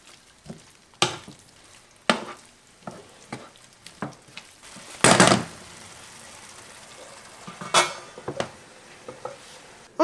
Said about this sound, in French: Je mélange et cette fois-ci je vais laisser mijoter encore un moment.